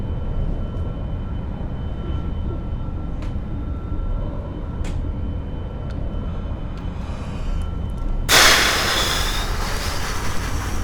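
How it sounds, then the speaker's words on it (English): A heavy Antonov transport plane rolls out on an aircraft carrier deck in a video game, a deep continuous rumble with faint clicks, then a sudden bright hiss bursting in near the end. "I've landed the Antonov on an aircraft carrier."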